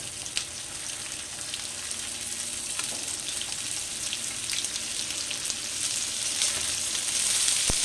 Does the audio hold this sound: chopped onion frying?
yes